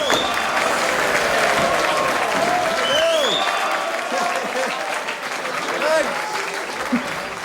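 Audience clapping and applause fill a club or stage venue, steady and continuous throughout, with crowd noise and voices mixed in.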